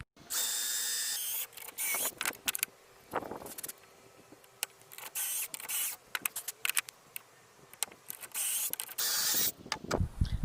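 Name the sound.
drilling pocket holes in wood for campervan build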